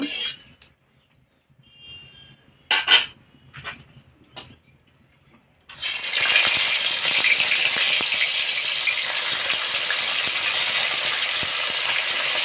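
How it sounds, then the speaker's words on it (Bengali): Fish spattering and sizzling loudly in hot oil in a wok for a Bengali vola fish recipe, a steady dense crackle starting partway in after a few scattered clinks and kitchen sounds, close and continuous to the end. "তেল গরম হয়ে গেছে, এবার মাছগুলো ভেজে নেব।"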